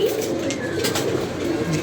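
Captive pigeons coo close by in soft, repeated throaty calls over a steady background hum, with no talking.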